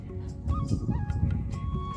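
Geese honking on the bank of the Jamuna river, a few short nasal calls rising over a busy, low background of farmyard noise, moderately close.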